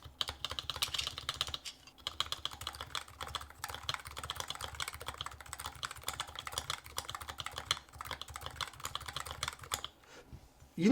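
Rapid, steady typing on an EC (electro-capacitive) keyboard fitted with ABS keycaps, dense keystrokes clattering continuously at close range with a low hum underneath, then stopping abruptly near the end.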